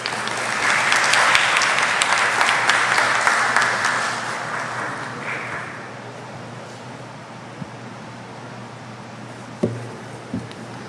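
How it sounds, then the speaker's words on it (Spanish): An audience at a congress event in Peru gives strong applause that swells, holds for several seconds, then fades into the hall's quiet room tone with a few stray thumps. "Lo recibimos con fuerte palmas, por favor."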